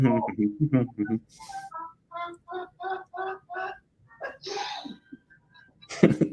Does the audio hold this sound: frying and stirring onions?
no